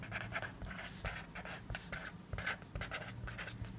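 A pen writes a math formula for the volume of a cube, rapid scratchy strokes and taps in a steady rhythm, close up and moderately quiet, alone without talk.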